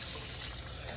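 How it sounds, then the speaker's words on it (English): Water poured from a tap into an A&W cup, a steady continuous splashing rush that stays level and fairly loud for the whole second, with no talking. "So I'm gonna put some water in so I can show you guys how much water to put in here."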